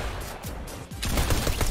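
Gunfire from the Fortnite video game: quiet opening shots, then a dense rapid burst of loud overlapping shots in the second half.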